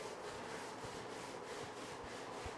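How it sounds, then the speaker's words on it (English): A manual scrubber working over grout on a floor gives a steady, faint scouring hiss, with a few soft thuds along the way and no voices. "Here we have a manual scrubber."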